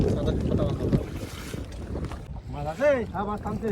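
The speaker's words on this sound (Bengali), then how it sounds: "হাওয়া ঢেউ বৃষ্টি সব উঠে গেছে" Gusty wind buffets the microphone and waves slosh around a small fishing boat in rough weather, with a voice calling out briefly near the end.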